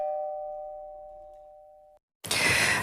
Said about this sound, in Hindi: पर उसी वक्त घर की डोरबेल बज पड़ी।